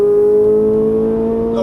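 A Ferrari 458 Italia accelerating out of a turn, a loud steady engine drone with a strong sustained tone held close throughout, the pitch barely climbing before a brief rise at the end.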